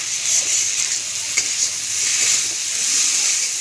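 Spices sizzling and frying in a pan for a banana curry, a steady bright hiss with faint stirring scrapes and no talk.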